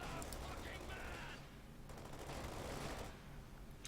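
Machine gun fire from paratroopers on the Minsk map in a strategy game, sustained rattling bursts mixed with other battlefield shots, fairly faint and distant-sounding.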